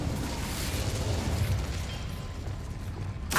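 An Incendio fire spell cast in the Hogwarts Legacy video game, a loud, sustained roaring blast of flame that rumbles steadily for a few seconds before a sharp burst at the end.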